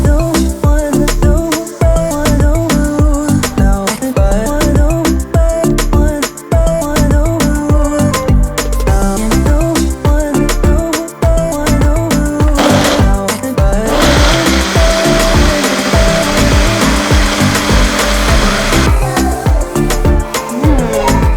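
A Ninja blender runs loud and close while making a smoothie, a continuous grinding whir that shifts to a harsher, brighter tone partway through before settling back.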